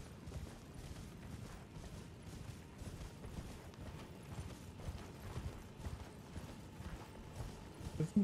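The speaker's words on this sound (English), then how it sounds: "There's something stomping around that here." Heavy stomping footsteps from a creature in the game Elden Ring, a steady rhythmic thudding, almost hoof-like, running continuously at a moderate distance with no talk over it.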